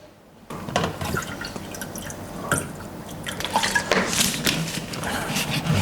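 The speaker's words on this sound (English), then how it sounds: "let's fill the tank with water" Water splashes and trickles as it is poured into the tank of a Nespresso Essenza Mini coffee machine. Close splashes and drips start after a short silence and build into a fuller pouring gurgle.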